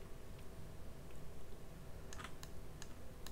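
Mouse clicks and Enter key presses during work in CAD software, heard as a few faint, sharp taps near the end over a steady low hum of room noise, with no talking.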